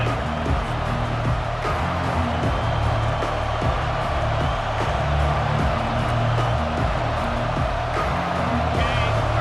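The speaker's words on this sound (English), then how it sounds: "This crowd is trying to inspire this defense to make a big red zone stop." A football stadium crowd at a UAB vs OU game roars steadily and densely for the whole stretch, a loud wash of cheering and noise with no clear breaks.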